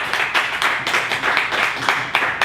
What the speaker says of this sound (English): Yeah, you can clap if you want.